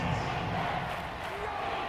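Stadium crowd at a football game, a steady roar of many voices holding loud and constant throughout, with no single standout shout.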